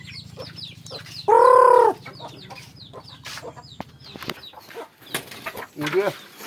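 Chickens cluck close by in a rural yard, with one loud crow-like call and scattered clucks under ongoing background chatter and other farmyard noise.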